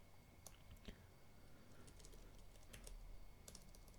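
Quick, irregular clicks of fingers typing on a computer keyboard, close and fairly soft, with short bursts and brief pauses over a low background hum.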